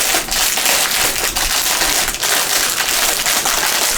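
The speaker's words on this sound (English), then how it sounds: "So ignore the crinkling that's happening right now." Plastic packets of diamond painting drills are handled up close, giving loud, continuous crinkling and crackling with sharp rustles throughout.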